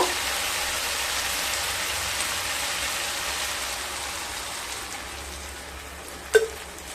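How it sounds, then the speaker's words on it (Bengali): Water hitting frying soybean masala in a hot pan makes a steady, rain-like hissing sizzle that slowly eases, with one brief sharp clink near the end. "এরপর জল দিয়ে দেব।"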